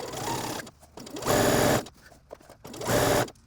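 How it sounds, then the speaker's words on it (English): A sewing machine runs a line of stitching along a fold in dress fabric, close beside an earlier stitch line. Two loud, steady bursts of fast whirring are separated by a short quiet pause with faint handling noises. No voices. "sew this right above, right next to the first line of stitching"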